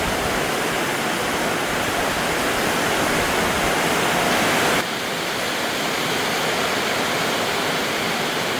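Dense, roaring heavy rain pours without pause, close and loud, easing only slightly partway through.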